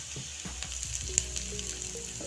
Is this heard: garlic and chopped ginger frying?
yes